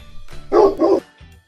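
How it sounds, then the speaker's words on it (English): A dog gives two loud, close barks in quick succession, with softer yips or breaths around them. "For example, barking like a dog."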